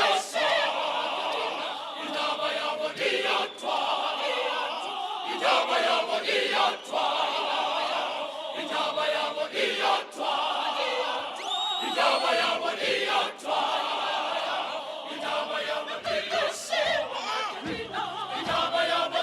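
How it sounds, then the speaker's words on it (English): An audience gives a sustained round of applause for the Matthews Choir at an ANC political evening event, dense clapping with some cheering throughout, fairly loud and continuous. "A round of applause again for the Matthews Choir."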